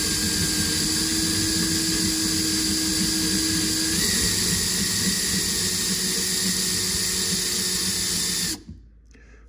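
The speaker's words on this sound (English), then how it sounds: "Just center that drill bit up and go slow with a lot of pressure." A drill bit bores slowly into a Kalashnikov AK receiver at low RPM under heavy feed pressure, giving a close, steady whine with a droning hum that runs for about eight seconds before abruptly cutting off.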